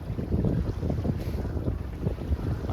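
Steady wind rushing over a microphone aboard a sailboat at sea, with low buffeting gusts and a faint wash of water under the hull, loud and continuous without any talk.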